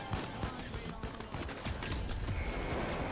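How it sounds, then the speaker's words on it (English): Dense, rapid gunfire fills a chaotic firefight in the video game The Finals, with continuous crackling shots overlapping loudly throughout and no pauses. "I'm getting shot by both the teams."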